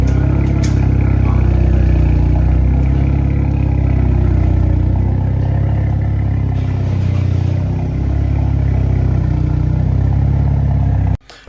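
Hyundai i30N hot hatch exhaust rumbling loud and close, holding deep revs with clattering pops and crackles before cutting off abruptly at the end.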